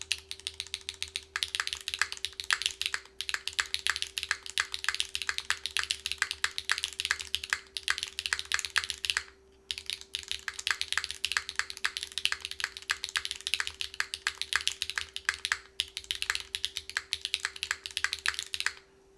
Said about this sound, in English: let's see what this thing sounds like. It's copper plate with HMX yogurts.